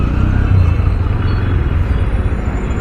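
Dense Sunday road traffic in Hyderabad on the way to Jubilee Hills, captured from a riding motorcycle as a steady, near, low rumble of engines and passing vehicles.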